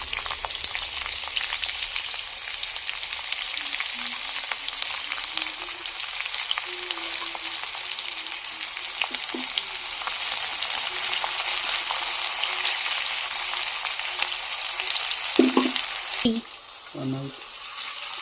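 Chopped onion and garlic sizzle steadily in hot oil with dried chilli and cumin, a loud continuous frying hiss broken near the end by a few clinks of stirring, with faint speech underneath.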